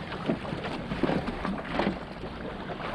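Wind and choppy, sloppy water buffet a sailboat off West Chop, a low rushing wash with irregular slaps and gusty microphone rumble, steady and moderately loud with no talking.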